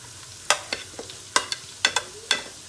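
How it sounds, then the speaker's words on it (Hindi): Potatoes and eggplant sizzle in a frying pan for Punjabi aloo baingan, with a steady close crackle punctuated by several sharp scrapes of a spoon stirring, no voices. "ये देखिए आवाज़ भी आनी शुरू हो गई है, अब ये पकने लगे हैं।"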